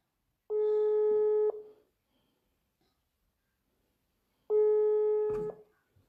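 Two long electronic tones of a telephone ringing out unanswered on a call, each about a second long with a clear pause between, loud and alone with no talk.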